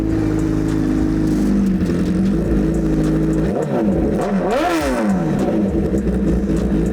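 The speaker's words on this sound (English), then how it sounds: "rev that thing up. Here we go." A vehicle engine revs up hard, loud and continuous, its pitch sweeping up and down through several throttle blips before holding at a steady high drone.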